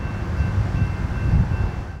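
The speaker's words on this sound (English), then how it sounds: "there was a special Norfolk Southern unit coming our way" A Norfolk Southern heritage unit locomotive approaches on the Cincinnati Southern Railway near Beach Street in Spring Grove Village, its deep rumble swelling and pulsing steadily at moderate distance, with wind noise and no talk.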